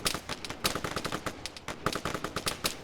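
Rapid bursts of automatic gunfire crack in the Arma 3 video game: repeated sharp shots in quick, uneven volleys, loud and close, with no talking.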